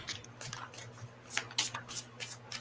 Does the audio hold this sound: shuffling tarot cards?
yes